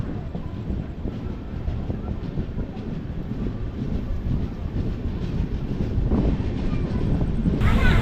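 Passenger train from Chennai Central to Coimbatore running slowly, with a steady low rumble of wheels and carriage noise and wind buffeting throughout, growing slightly louder toward the end.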